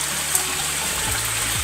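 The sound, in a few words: flowing mountain spring water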